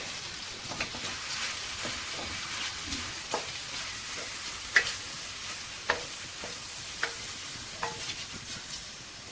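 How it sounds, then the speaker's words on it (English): Cooked spaghetti is stirred into pesto in a hot pan, with a soft continuous sizzle and periodic scraping clicks from the utensil at an unhurried rhythm. "we're going to add the spaghetti, which I've already cooked"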